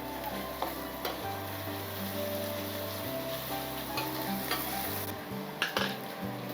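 Leftover water sizzling off in a hot kadai on a stove before frying crab, a steady hiss with low bubbling hum and occasional metallic clinks of the pan, close and without talk.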